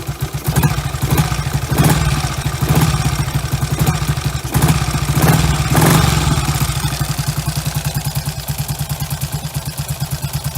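A Norton Dominator motorcycle engine, choke now released, runs steadily and loudly up close with a fast, even beat, a mechanical clatter and a few brief swells in revs, with no talking.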